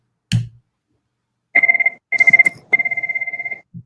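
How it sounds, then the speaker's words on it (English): A work phone line rings in three short electronic trilling bursts, each a warbling two-tone ring, fairly close and clear, with a brief thump just before and no talking. "Sounds like our phone lines are blowing up."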